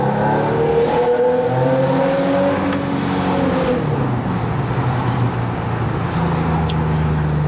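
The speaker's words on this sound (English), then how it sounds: "But yeah, right now we just dealing with this traffic as we go." Steady road traffic heard from inside a moving Infiniti G37 or Nissan 370Z, with a continuous engine drone and shifting tones as the car changes speed, plus a few faint higher clicks.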